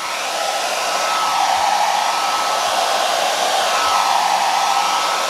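A handheld hair dryer blows steadily and loudly, a continuous close whoosh with no pauses and no voices over it.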